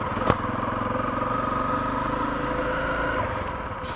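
Honda CRF250L dual sport motorcycle riding forest trails, a steady close engine drone with a rhythmic putter throughout and one sharp knock early on.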